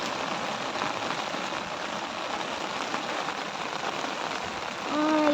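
Heavy rain patters steadily on surfaces during a fishing outing, a close, even hiss of drops that swells slightly toward the end, where a brief tonal sound cuts in.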